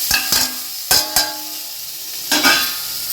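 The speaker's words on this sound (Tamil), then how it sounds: "இப்போ இந்த மசாலாவும் இந்த எண்ணெயிலேயே வந்து கொஞ்சம் அப்படி வதக்கலாம்" Masala stirred and sautéed in hot oil for a Hogenakkal-style fish curry, a few distinct scraping strokes of a spoon against the pan over a soft background sizzle.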